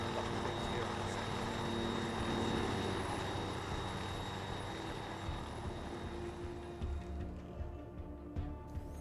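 A military helicopter in ARMA 3 roars loudly and continuously from inside the cabin, with dense rotor and engine noise. The noise eases slightly toward the end.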